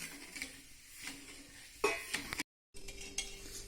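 A spoon stirs sugar into boiling milk in a pot, a close scraping swirl with faint bubbling and a metallic clink, briefly cut to silence before resuming.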